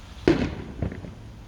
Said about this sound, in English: Idiot with fireworks.